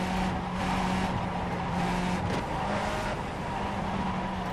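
Race car engine in the iRacing sim, a Skip Barber car lapping Lime Rock, drones steadily and loud throughout with a held engine note and slight pitch shifts, no talk over it.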